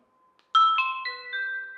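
A UniFi G4 Doorbell Pro rings after its button is pressed, giving a clear, close electronic chime of three or four descending tones that ring on and overlap for under two seconds.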